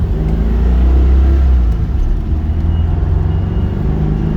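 A white 1966 Volkswagen Type 34 pulls away and accelerates, a loud low engine rumble heard from inside the car, steady and droning, dipping slightly midway as it builds speed.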